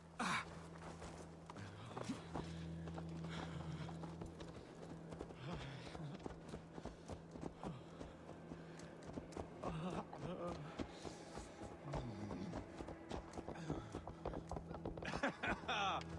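Horse hooves clip-clopping in the video game Assassin's Creed Valhalla, a steady rhythmic patter of hoofbeats that runs the whole stretch under a game soundtrack and ambience, with a few louder clatters near the end.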